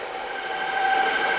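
An electric mixer whirs steadily at low speed through key lime pound cake batter, a constant close motor hum with a faint whine that swells slightly toward the end, with no voices.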